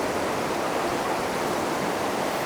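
Constant, loud rush of clear mountain river water along the Someșul Rece gorge in the Apuseni Mountains, a dense unbroken roar heard close up with no other sounds.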